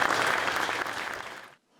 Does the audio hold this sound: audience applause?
yes